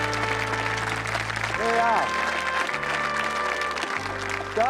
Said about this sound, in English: Give them a great round of applause from St. Peter Port, Guernsey.